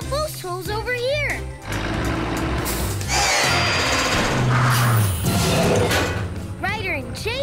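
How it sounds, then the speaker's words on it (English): Cartoon power drill boring post holes for a landing pad, a loud buzzing whir with thuds, mixed with upbeat music and a voice talking at the start and end. "Zuma, drill post holes over here."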